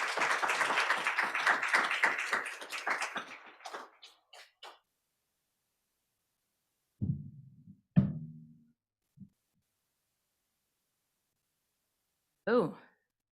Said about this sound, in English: I would now like to invite Dr. Ann Carpenter with a hearty round of applause and Seton Hall welcome.